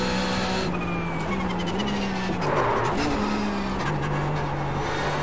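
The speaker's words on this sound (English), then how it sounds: "Extra downshift there, nearly blew up the bloody engine." A Porsche Cup race car in iRacing at Road America drones steadily, then its engine note dips and surges sharply as it over-revs on an extra downshift before settling back to a constant roar.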